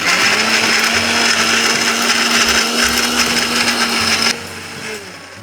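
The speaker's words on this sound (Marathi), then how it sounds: "तर हे सगळं मी मिक्सरच्या भांड्यामध्ये घेतोय आणि आता हे आपण छान वाटून घेणार आहोत." A mixer grinder runs loud and steady as it purees fresh Thai green curry paste, its high motor whine cutting off near the end to leave a lower, fading hum.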